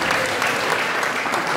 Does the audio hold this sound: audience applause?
yes